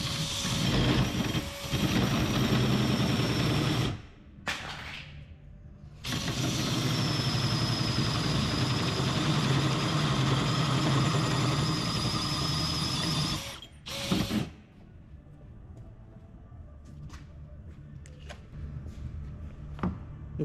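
A notcher cuts a steel pipe for an off-road racing buggy's roll cage in two long loud grinding, rattling passes separated by a short pause, followed by quieter clanks and handling noises.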